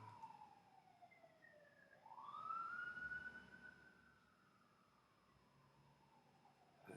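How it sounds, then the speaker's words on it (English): A police-style emergency siren wails faintly in the distance through an open window, its tone sweeping down, then up and sustained before gliding lower again, with no other sound competing. "there's windows open, there's stuff being recorded that's unpredictable, like sirens."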